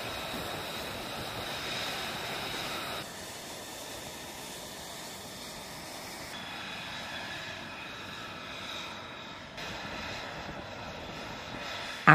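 F-35 stealth jet engines roar steadily in a broad, continuous rush with no talking, the loud hiss shifting in tone a few times as aircraft are readied for takeoff on the ground.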